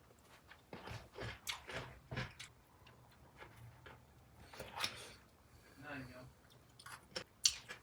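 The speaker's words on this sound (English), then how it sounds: "Go in with a bite of this cucumber here with a little bit of corn on it." Close, quiet crunching bites and chewing on a piece of cucumber topped with corn, in irregular bursts of crisp crunches and softer mouth sounds with brief pauses between.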